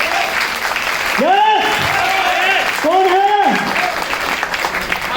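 Audience applause at a Hindi motivational seminar on network marketing, a steady crackling clapping that swells and fades over about five seconds while a voice speaks over it.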